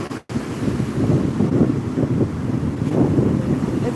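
Big sea waves breaking at a beach, a continuous loud roar of surf rolling in, heavily buffeted by wind on the microphone, with no talk.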